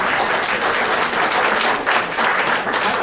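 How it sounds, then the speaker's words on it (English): A political forum audience applauds in a dense, sustained burst of clapping that fills the whole stretch, loud and close with no pauses. "Clap for that."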